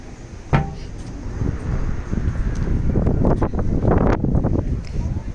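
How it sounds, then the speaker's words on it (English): Gusty wind buffeting the microphone in rushing bursts at night near Tower Bridge and St Katharine Docks, London, growing stronger toward the end, with faint rustling underneath. "It is very windy."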